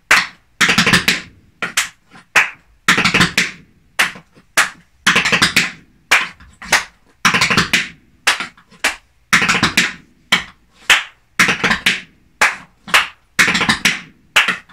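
Tap shoes on a hard floor play a relaxed-ankle exercise of brush and spank steps, sharp close-up taps in steady repeating groups of quick strikes with short pauses between, and no talking.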